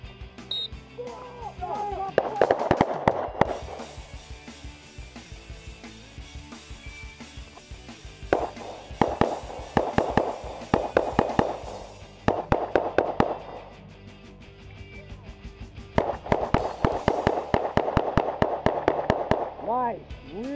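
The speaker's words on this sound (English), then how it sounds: "Guys, did you hear that shot cadence?" Rapid handgun shots crack in quick, evenly spaced strings at an outdoor shooting clinic, arriving in several separate bursts with short pauses between them.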